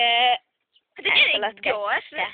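A goat bleats loudly at a farm where several goats, including black and black-and-white ones, are kept: one short, close cry, a brief pause, then a run of wavering bleats.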